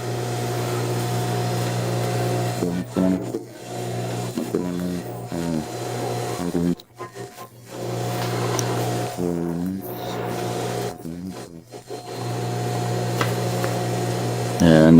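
An industrial straight stitch sewing machine runs with its pedal pressed fully down, giving a steady close motor hum with rapid stitching bursts broken by several short pauses.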